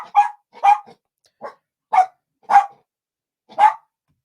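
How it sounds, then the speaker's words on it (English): A puppy gives six short, sharp barks at a steady, uneven pace, each clear and close with silence between, and no talking. "Puppy makes noise."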